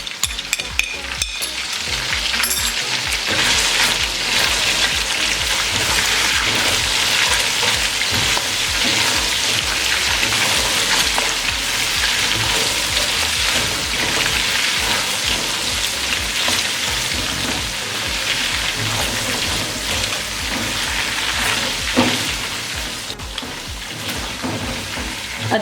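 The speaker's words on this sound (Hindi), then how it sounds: "अब इसमें 1 टेबलस्पून अदरक लहसुन का पेस्ट डाल देंगे और 30 सेकंड के लिए इसे भी फ्राई कर लेंगे।" Chicken pieces with ginger garlic paste sizzle loudly and steadily in hot oil, cooked for a restaurant-style degi masala biryani, with occasional stirring clatter under a constant dense frying hiss and no talking.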